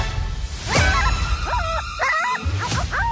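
The cartoon beagle Snoopy yips and barks in a run of short, high, cartoonish bursts, loud and close over a low background bed, with no speech.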